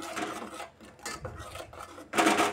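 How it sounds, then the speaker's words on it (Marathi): Spoon scraping and stirring a rice-and-coconut masala in a cooking pot, soft irregular rubbing and clinking strokes in short bursts, close up, with no talk. "नंतर आपण असं व्यवस्थित चमच्याने फिरवून घेऊया"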